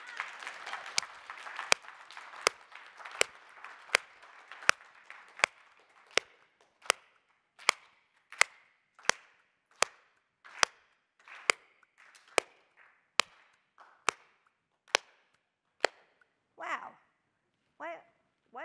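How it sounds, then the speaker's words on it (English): Audience at a South by Southwest conference talk claps in unison, sharp synchronized claps in a steady rhythm, beginning amid scattered applause and continuing alone, with brief voices near the end. "Now I want everyone to clap like this is the best presentation that you're seeing at South by."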